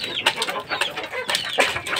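A chick of a fighting rooster breed gives a few short, high peeping clucks up close, chirping in quick succession over a soft background hiss.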